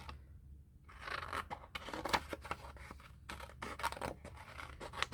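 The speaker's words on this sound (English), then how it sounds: "So let's fussy cut that side out." Scissors snip through paper, cutting a vintage image out of a page for a Christmas collage book, in a close, quiet series of irregular crisp snips and rustles with no talking.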